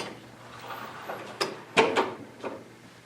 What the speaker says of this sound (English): Now what I'm going to do is I'm going to open this door